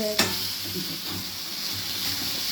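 Food frying in a pan, a steady close sizzle with a sharp clink near the start and faint stirring movements.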